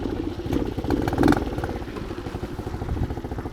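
A dirt bike engine idles with a rough, rapid putter, steady and close, with a brief louder rev in the middle, outdoors in -35°C cold.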